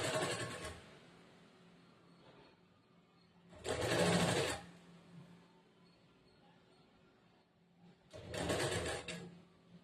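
A sewing machine stitching a blouse runs in three short, close whirring bursts separated by quieter pauses, with no voices.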